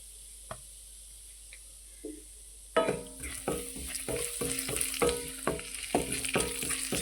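Chili powder and masala frying in a pan for restaurant-style capsicum curry: a few faint taps, then a loud close sizzle with rhythmic scraping of a spoon stirring, no voices.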